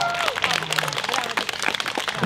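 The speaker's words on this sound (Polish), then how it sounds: "Wielkie brawa!" Audience applause at a youth talent festival dance show in Żyrardów, dense clapping filling the hall with a voice and some cheering mixed in.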